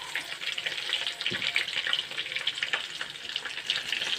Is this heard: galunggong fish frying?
yes